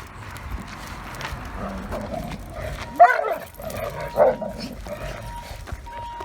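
A reactive Doberman on a leash barks and whines at another dog, a few sharp close barks around the middle of the clip over steady outdoor background noise, with faint clopping sounds in between.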